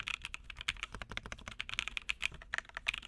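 Crisp, rapid keystrokes on a Melonbred Pegasus custom mechanical keyboard, a steady clacking rhythm of individual key presses with no voices.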